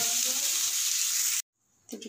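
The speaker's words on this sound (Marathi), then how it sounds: "हे मी तव्यावर कांदे टाकले आहे. थोडंसं तेल करून तेलात हे मी हे परतून घेते" Onions fry in a little oil on a griddle for a chicken curry, a loud close hiss that cuts off abruptly into silence before faint kitchen noise returns.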